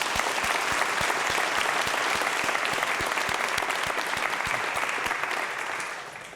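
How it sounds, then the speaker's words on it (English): Sustained applause from a large audience at a college convocation, dense steady clapping filling the hall for several seconds with a faint rhythmic beat underneath, then fading slightly at the end. "let's have a round of applause."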